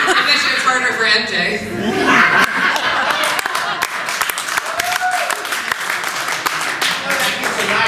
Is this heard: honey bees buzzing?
no